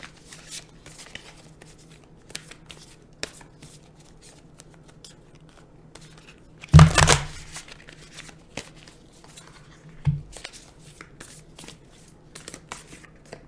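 Oracle cards being shuffled by hand, heard up close as soft papery riffles and taps, with one louder burst of flicking cards near the middle and a shorter one later, set against a quiet background.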